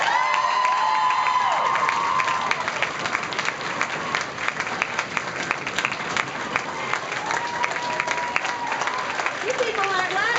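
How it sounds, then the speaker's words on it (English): A crowd at a Locks of Love hair-donation event applauds steadily, with dense clapping and scattered cheers and shouts running throughout, fairly loud and close. "Let's cheer her on."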